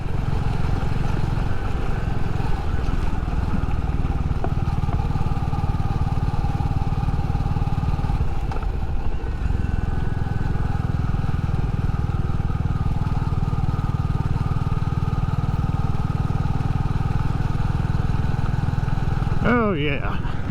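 Royal Enfield Classic 350 motorcycle riding along a dusty backroad dirt road, its steady single-cylinder engine drone and rumble continuous and close throughout, with a brief rattling shift near the end.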